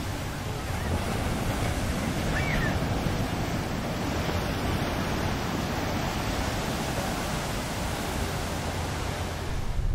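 Surf breaking on the beach at Air Manis near Padang, a steady, full wash of waves that holds evenly for the whole stretch, with some wind on the microphone and no voices.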